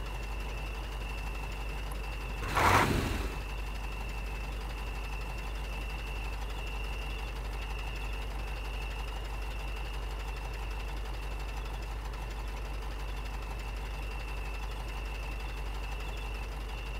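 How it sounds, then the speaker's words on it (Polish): A truck engine in the MudRunner video game keeps running underwater, a steady low idling drone with a brief louder surge near the start, heard alone without talk. "Silnik pod wodą, ale pracuje."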